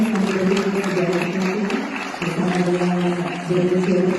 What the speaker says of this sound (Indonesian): kita sambut dengan tepuk tangan yang meriah